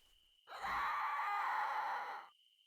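A mandrake root being pulled up in the Fishing Planet video game lets out a single sustained shrill scream of about two seconds, rising in sharply and cutting off cleanly against a quiet background.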